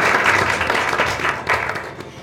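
Dense audience applause at a political debate event as an expert is introduced, loud and continuous for a couple of seconds with a slight swell midway.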